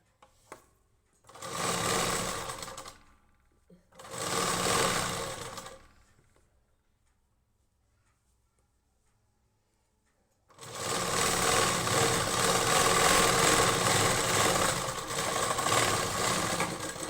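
A sewing machine stitches along the edge of a blouse in three runs: two short whirring bursts, a long quiet pause, then a sustained, close, steady mechanical hum and rattle to the end.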